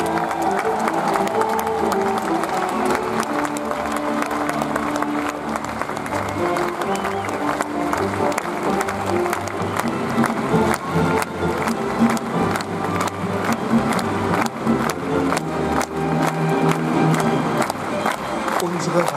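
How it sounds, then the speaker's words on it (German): An audience at the 2022 outdoor open-air staging of Der Ölprinz in Bad Segeberg claps and cheers steadily and loudly throughout, a dense wash of applause layered over music. "Applaus."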